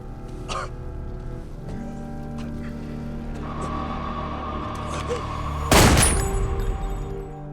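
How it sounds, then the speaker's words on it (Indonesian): A robber is shot in a film scene: one sharp loud gunshot rings out near the end, over a steady low mechanical hum and scattered faint clicks and thuds. "ia mencoba menggunakan tangan kirinya untuk menembak penjahat itu hingga tewas"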